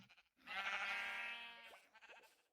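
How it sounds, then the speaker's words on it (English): A single drawn-out sheep bleat in Minecraft, heard on a sheep farm, fairly faint and lasting over a second, with soft clicking game sounds before and after. "Good old sheep farm."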